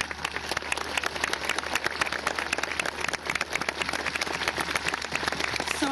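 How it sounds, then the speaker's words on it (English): Sustained audience applause at a Dublin Horse Show horse-training demonstration, a dense, steady patter of many hands clapping throughout without pause. "Give her a round of applause, please, ladies and gentlemen."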